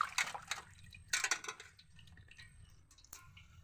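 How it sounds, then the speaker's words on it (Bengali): Potatoes and ridge gourd are swished and washed together in a bowl of water, giving close splashes and drips in short bursts, then softer trickling. "আলু ঝিঙে আমি একসাথেই ধুয়ে নেব।"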